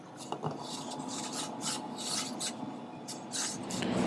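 Arrow shaft ends are squared off with a continuous, close, quiet scraping rasp in uneven strokes, with no voices.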